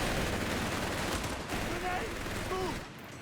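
Machine gun burst in a Company of Heroes 3 battle, a rapid rattle of fire heard at a distance within dense combat noise, with commentary voices over it.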